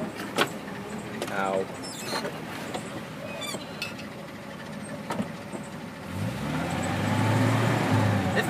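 A 1979 Chevy van's engine runs low and steady while driving in a lower gear, with a deeper throttle surge near the end, under road noise, door and key clatter, and occasional talk.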